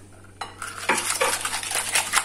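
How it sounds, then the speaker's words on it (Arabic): Pancake batter being stirred with juice in a bowl, a spoon or whisk scraping and clinking against the sides in quick, uneven strokes, close and fairly loud with no talking. "حرك مزيان مع العصير"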